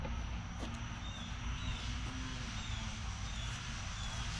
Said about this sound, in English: If you guys hear that lawnmower in the background.